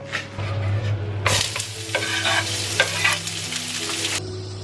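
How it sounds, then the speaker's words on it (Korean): Onion, sausage and mushrooms sizzle steadily in a hot pan for a cream pasta, a loud continuous frying hiss with scraping and stirring clatter over a low hum, and no talking. "제가 썰어 놓은 양파랑 소세지 버섯까지 다 넣겠습니다"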